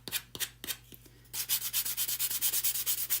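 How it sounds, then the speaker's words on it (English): Wood being sanded, with a few separate scraping strokes followed by a fast, regular run of rasping passes, close and fairly loud. "I always love to use the electric sander."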